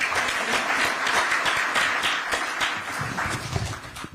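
A political gathering of former assembly speakers and lawmakers breaks into sustained applause after a speech, dense clapping filling the room steadily for the whole stretch.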